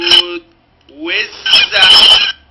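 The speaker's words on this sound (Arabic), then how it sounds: "صوت ايه؟ صوت وزة" A farm goose gives a short harsh honk, then after a pause a rising nasal honk that runs into a loud, raspy burst of calls, close and clear.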